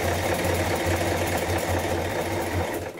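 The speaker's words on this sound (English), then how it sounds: "your machine may do it all in one step, just a one step buttonhole" A domestic sewing machine stitching a buttonhole on a shirt dress runs steadily and loudly at close range, with a fast, even mechanical whir and needle chatter that continues for about three seconds before winding down.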